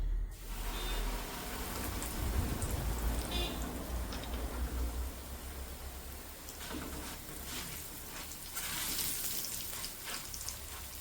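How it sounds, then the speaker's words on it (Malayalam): Flattened rice (aval) frying in a pan for homemade mixture snack, a soft continuous sizzle and crackle with occasional stirring scrapes, close but quiet, no talking over it. "ആദ്യം ഈ അവിൽ നമുക്ക് ഒന്ന് വറുത്തെടുക്കാം"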